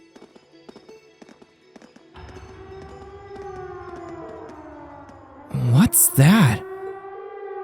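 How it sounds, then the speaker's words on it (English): A wailing siren from a fort in the video game Trails of Cold Steel rises and holds steady, then swoops up and down twice loudly near the end, while a voice briefly asks a question. "It sounds like a siren. It seems to be coming from the fort."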